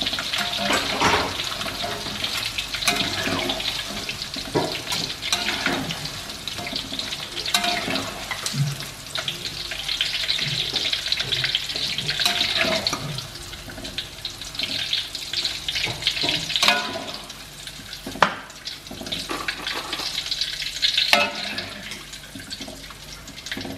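Tofu frying in hot oil, a loud, continuous crackling sizzle close by with small bursts and pops throughout.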